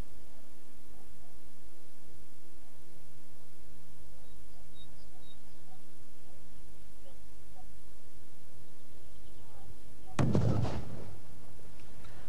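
A charge of plastic explosive detonates in one sudden, loud blast near the end, following a long stretch of faint background hum.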